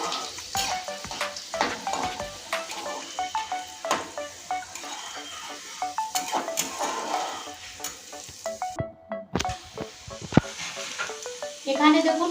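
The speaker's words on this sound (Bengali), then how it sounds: "রসুনটা লাল করে ভেজে নেব ফড়নের সঙ্গে" Garlic and whole spices fry in hot oil for a home-style chicken and potato curry, with a steady sizzle and frequent scraping strokes of a spatula against the pan, loud and close throughout.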